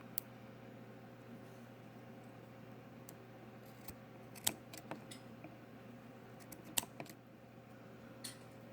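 Small scissors snipping excess cotton wick on a Modfather RDTA vape atomizer, a few faint, sharp clicks scattered over a steady low hum, with no one speaking.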